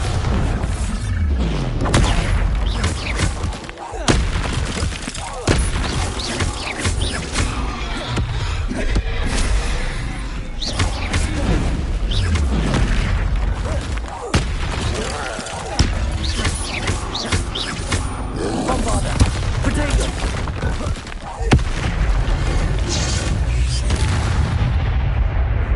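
Bombarda spell explosions in the video game Hogwarts Legacy: loud, dense booms and blasts going on for about half a minute, with a constant roar and sharp bursts at uneven intervals, no talk.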